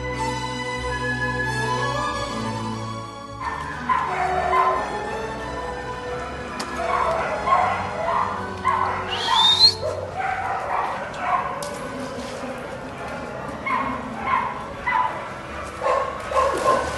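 A street dog barks and whimpers in short yips and whines, close and fairly loud, starting after a few seconds of other sound and continuing in irregular bursts.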